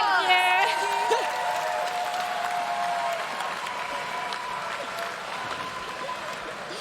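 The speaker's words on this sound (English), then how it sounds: "So give Thank you, yourselves a round guys. of applause." Audience applause at a YMCA closing ceremony, a steady wash of clapping from a crowd that fills the whole stretch, with a brief whoop and a voice on a microphone at the start.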